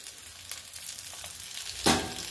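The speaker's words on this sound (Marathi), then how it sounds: "तर ह्या एक भाज्या 2 मिनिटं मी परतून घेणार आहे।" Chickpeas, val beans and carrots sautéing in a pan, a steady soft sizzle with one louder stir or toss near the end, close and without talk.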